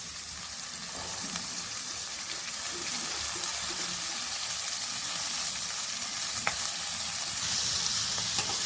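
A large bunch of washed, chopped fenugreek leaves fries in oil in a pan for a methi chicken curry. A steady close sizzle runs throughout, broken by soft scraping as a spoon stirs it now and then.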